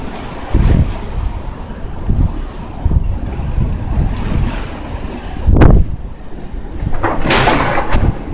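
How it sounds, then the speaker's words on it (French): Violent wind roars during a snowstorm in Amiens in January 2017, buffeting the microphone in loud, surging gusts with a few sharp blasts and no talk. "La neige, elle devient de plus en plus intense, le vent accélère."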